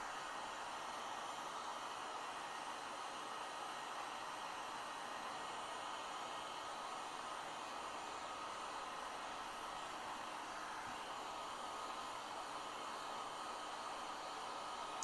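Steady, loud hot-air blast from a heat gun or dryer warming foam so it shrinks, a continuous broadband whoosh held evenly from start to finish with no talk.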